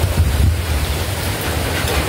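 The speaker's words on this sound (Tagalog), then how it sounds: "Lakas ng hangin na po." Strong wind roars steadily through a typhoon, a dense broadband rush with low rumbling gusts and rain-like hiss throughout, with no talking.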